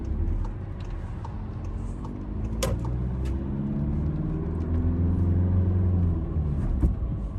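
A driving-school car pulls away and accelerates in first gear, its engine a steady low rumble that rises gradually in pitch. A brief click comes partway through, heard from inside the cabin.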